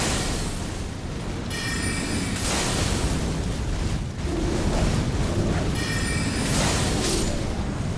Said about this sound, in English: let's hit him with comets